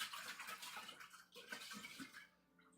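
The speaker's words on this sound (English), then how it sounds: "so I was pouring out drinks" Drinks poured out close by, with liquid splashing and gurgling into a cup in a continuous stream that tapers off toward the end.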